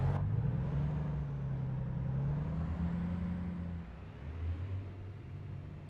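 A truck engine hums steadily while driving in the World of Trucks simulator game on an Iowa route, a smooth low droning note that dips briefly and recovers.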